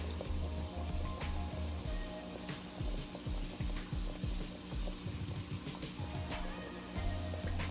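Jamaican fried dumplings frying in a pot of oil, giving a steady close sizzle and crackle with bubbly pops throughout and no talk.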